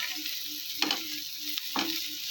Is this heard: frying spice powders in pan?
yes